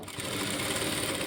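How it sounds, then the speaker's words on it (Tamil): A sewing machine stitches slowly along fabric piping on a princess-cut garment, a continuous close mechanical whir with rapid needle chatter and no talking. "நம்ம பைப்பிங் மேலேயே மெதுவாக ஸ்டிச்சிங் பண்ணிட்டு வரணும்"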